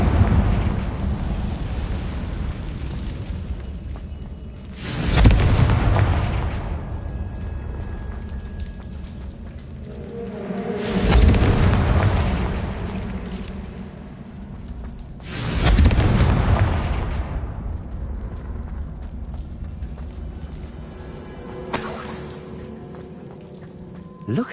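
Confringo fire spells exploding in the game Hogwarts Legacy, three heavy booming blasts spaced about five seconds apart, each with a rumbling decay, over a constant hiss of rain-like ambience and a small crack near the end.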